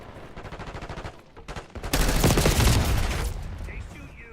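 Gunfire during a hardpoint match in Black Ops 6: scattered single shots and short bursts, then a dense, loud stretch of rapid automatic fire before it eases off.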